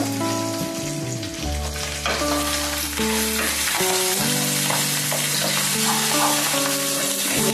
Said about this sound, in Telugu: వేగుతుంది కదండి మసాలా